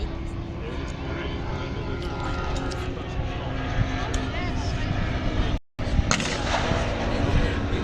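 A WW2 fighter plane trailing smoke flies over a battle re-enactment, its engine a steady, loud drone throughout with dense, continuous noise and a brief dropout just before the end.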